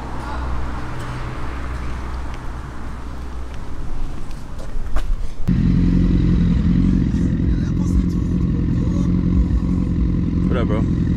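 A motorcycle engine on a test ride kicks in partway through and then holds a loud, close, steady drone over quieter clattering and road noise.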